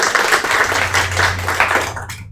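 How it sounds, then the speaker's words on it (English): Audience applause at a sales meeting, a dense crowd clapping steadily for about two seconds, close and fairly loud, with a low hum underneath and the clapping cutting off at the end. "Let's give them a round of applause."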